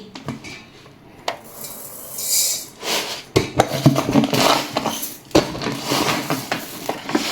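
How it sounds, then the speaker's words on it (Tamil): Raw rice poured into a container for idli batter makes a scattered, grainy rattle with a few sharp clinks against the vessel, rising in bursts and growing busier toward the end; no one speaks. "இப்போ 4 டம்ளருக்கு வந்து இதை 2 டம்ளர் போட போகிறோம் ஃப்ரெண்ட்ஸ் பச்சரிசி."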